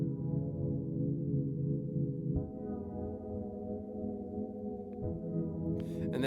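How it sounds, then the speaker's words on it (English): A soft, sustained synthesizer pad drones warmly, its held chords shifting gently a couple of times, with a brief bright noise burst near the end. "So the pad sounds a little like this."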